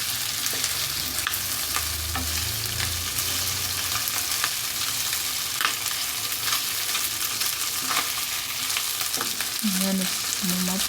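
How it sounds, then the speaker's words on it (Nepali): Chicken feet deep frying in oil, a loud dense crackling sizzle that runs continuously and close, with occasional stirring clinks near the end. "मजाले मात्रै तेलमा भुट्नुपर्छ"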